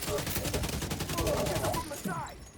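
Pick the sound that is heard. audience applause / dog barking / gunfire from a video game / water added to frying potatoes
gunfire from a video game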